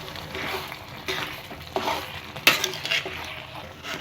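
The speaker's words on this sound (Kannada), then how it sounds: "ಈಗ ನಾವು ಇದಕ್ಕೆ ಮಿಕ್ಸ್ ಮಾಡ್ಕೊತಿದ್ದೀವಿ" Sambar powder being stirred into blood palya in a pan, with scraping, stirring strokes against the pan and a few sharp metallic clinks, under a soft sizzle, no talk.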